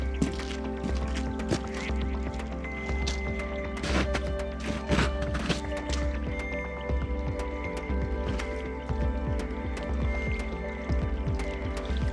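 Meltwater from thawing early-spring ice pours and drips close by, a steady wet splashing torrent with many sharp drips and trickles over a constant rushing bed.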